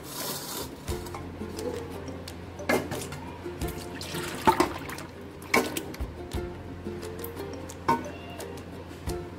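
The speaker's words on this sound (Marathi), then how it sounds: "आता ही आपण एका भांड्यामध्ये ओतून घेऊया।" Cooked raw mangoes and their cooking water are tipped from a pot into another vessel, giving close, uneven sloshes and splashes punctuated by sharp clinks and knocks, with no speech.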